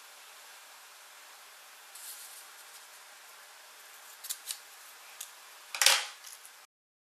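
Scissors snip through a paper Mobius strip about an inch wide in a quiet room, with a few soft, separate cuts and then one louder, crisp snip near the end.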